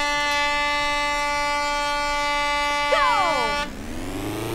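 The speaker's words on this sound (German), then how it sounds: "Das war ein langes Tröte." A long, loud air-horn blast sounds in the 1997 racing video game Euro Demo 14, held steady for several seconds before bending down in pitch and cutting off, leaving engine noise underneath.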